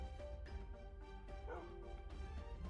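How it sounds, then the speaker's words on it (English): Minecraft dogs barking in a few sharp yips and woofs over steady background game music, close and clear with brief gaps between barks. "I hear you down there, Mr. Dog. Why are you barking?"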